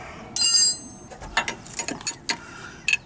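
A ratchet wrench tightens a front shock bolt on a Jeep Wrangler JK, giving a quick close burst followed by a series of short irregular clicks and metallic ticks.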